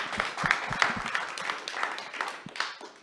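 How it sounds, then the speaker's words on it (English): Audience at a panel discussion clapping, a thin uneven scattering of individual claps from a modest crowd, strongest early and thinning toward the end. "Clap to that."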